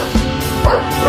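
A Micro Exotic Bully dog at a kennel gives two short barks about half a second apart, close and loud over steady background noise.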